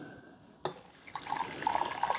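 Coffee pours from the 12-cup glass carafe of a Hamilton Beach 2 Way Brewer 49980A into a cup, starting with a sharp clink and then a steady, rising liquid trickle that grows fuller as the cup fills, fairly quiet and close.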